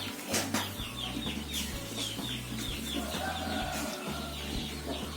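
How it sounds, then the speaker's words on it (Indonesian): Chickens in a coop that are sick with a snoring, wheezing respiratory illness cluck and murmur almost constantly at moderate distance, with brief wing flaps and rustling mixed in. "Ini ayam-ayamnya, alhamdulillah kalau sekarang itu udah ada bunyi cekik dikit ya kan"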